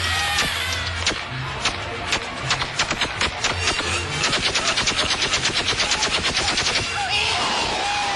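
Machine-gun fire as a sound effect, repeated loud rapid bursts of shots in an uneven rhythm, building into a long sustained volley before trailing off, with no talking.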